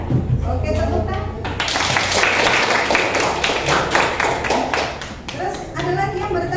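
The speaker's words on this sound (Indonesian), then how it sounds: "Oke, tepuk tangan." Students in a classroom break into a burst of dense, close hand clapping that swells and carries on for several seconds, with a teacher's voice heard briefly before it starts.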